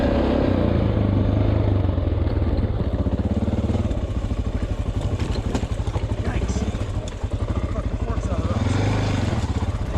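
Honda XR600R dirt bike ridden over rocks, engine droning loud and close throughout with rapid rattling clatter of the forks knocking on rocks, a voice talking over the ride.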